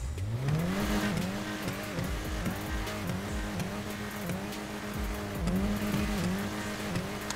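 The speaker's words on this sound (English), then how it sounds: "And let's do a little rev." An engine revs hard in the GTA 5 video game, its pitch climbing and falling in repeated loud surges across the whole stretch, with tire squeal mixed in and no talking.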